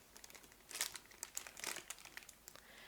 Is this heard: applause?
no